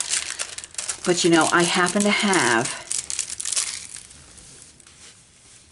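Cellophane wrapping crinkles and rustles in close, busy bursts, with a person talking briefly over part of it.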